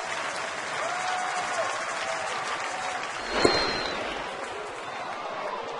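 Crowd at a baseball stadium applauding during a Detroit at Atlanta game, steady clapping from a large audience heard at a distance, with a sharp single crack partway through and faint voices in the background.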